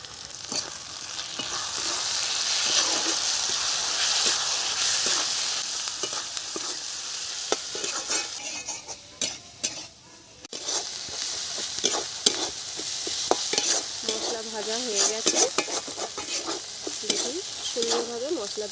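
Shrimp masala with ginger, chopped tomato, ground spice paste, salt and turmeric fries in a pan with a steady, close sizzle and repeated spatula scrapes and taps, briefly dipping midway.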